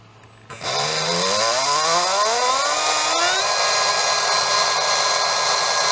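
A Trinity Slot Machine 17.5T brushless electric motor spins up from rest to very high RPM with a rising whine that climbs for about three seconds, then holds a loud, steady high-pitched scream.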